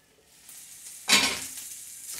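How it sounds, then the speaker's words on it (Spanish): Ground beef and diced potatoes frying in a pan, with a soft background hiss that erupts into a loud, close burst of sizzling midway through, then settles into a steady crackle. "Ya empezó a dorar la carne y la papa ya se está cociendo"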